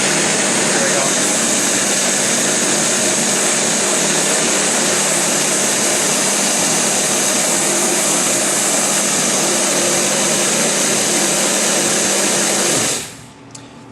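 GW suction feeder running with its vacuum and air knives on, a steady loud mechanical whir and hiss with a constant drone, holding evenly until the machine cuts out abruptly near the end.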